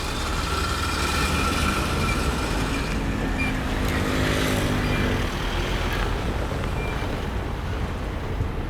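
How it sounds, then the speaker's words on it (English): A train at Eifukucho station in Tokyo rumbles steadily along the platform, a continuous loud clatter of wheels and carriages with a brief brake squeal midway and no talking. "But I do want to show the train."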